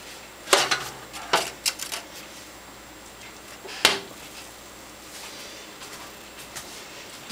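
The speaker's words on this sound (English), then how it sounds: "a little bit of a poke to spread it out a bit more with my slotted spoon" A slotted spoon pokes yarn in a food-coloring dye bath, making a few sharp metallic clinks and taps against the pot at irregular intervals, with quieter gaps between them and no talking.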